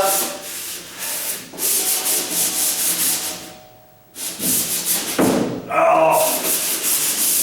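Hand sanding a painted door to take off dried paint droplets and small imperfections, a steady close scratchy rubbing in long strokes that pauses briefly once before starting again.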